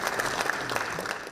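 Applause and cheering from a crowd inside and outside a parliament building as two politicians return to vote on a presidential impeachment, a dense, steady patter of clapping with scattered shouts throughout.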